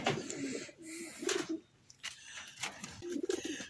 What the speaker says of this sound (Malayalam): ഇത് നാടൻ പ്രാവാണ്. നാടൻ പ്രാവ് എന്ന് പറഞ്ഞാൽ കാലിൽ ബൂട്ടുള്ള നാടൻ പ്രാവാണ് വന്നിരിക്കുന്നത്.